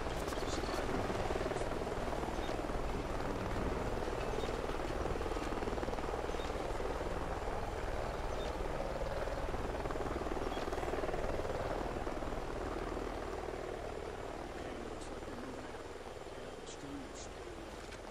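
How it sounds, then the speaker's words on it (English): Helicopters fly in a Call of Duty: Ghosts canyon mission, their steady rotor drone filling the background while voices talk over it. "Three choppers up ahead of us."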